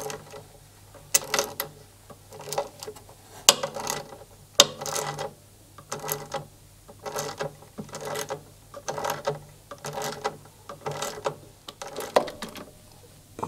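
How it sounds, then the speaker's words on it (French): A wrench ratchets the bolts of a washing machine tight during carbon brush replacement, repeated bursts of clicking pawl turns in a steady rhythm with short pauses, close and clear with no speech. "Voilà, et finir avec ma clé."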